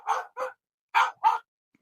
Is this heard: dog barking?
yes